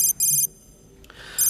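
A telephone rings while a call goes out to Jerry, two bright electronic trill bursts separated by a short pause, a brief silence after them, and then the ring starting again.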